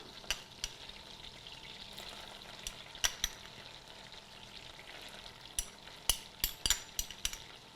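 Garlic fries in a pan for garlic bread with a steady close sizzling hiss, broken by scattered sharp clicks and taps of stirring that cluster toward the end.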